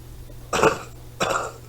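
Two short, rough coughs close by, about half a second apart, with quiet room noise around them.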